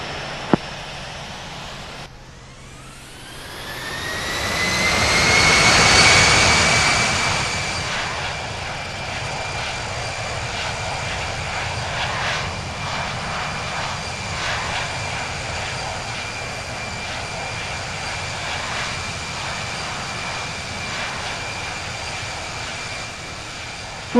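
Boeing 787-9 jet engines spooling up for take-off in the Infinite Flight game, a loud rising roar with a climbing whine that swells after a few seconds and then holds as a steady, sustained rumble.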